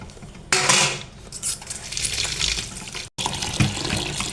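Kitchen tap running into a sink to soak bitter gourd leaves, a loud, close, continuous splashing gush with light clinks of dishes, cut off briefly near the end before resuming.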